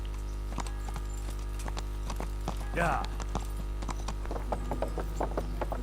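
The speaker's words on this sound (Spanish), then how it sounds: "Caballo que baja escaleras." A horse's hooves clop down stairs in Kingdom Come: Deliverance, a run of uneven, close wooden knocks with a brief snort or whinny midway, over a steady low game hum.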